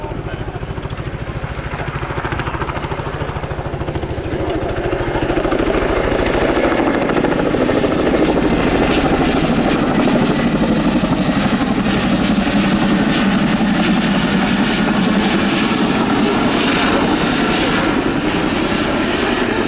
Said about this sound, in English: as the Chinook returns to parking